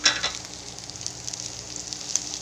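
Black rice tipped into a hot pan of frying eggs and stirred, giving a steady close sizzle with scraping stir strokes and brief louder crackles.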